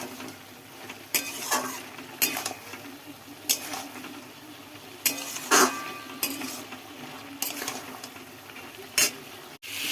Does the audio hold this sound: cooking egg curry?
yes